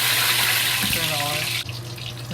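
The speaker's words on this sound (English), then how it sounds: "You can drain the oil." Hot frying oil from deep-fried stuffed eggplant drains in a steady pouring flow that stops abruptly partway through, leaving faint clinks.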